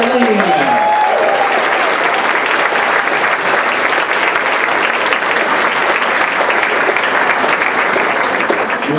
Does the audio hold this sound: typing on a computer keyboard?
no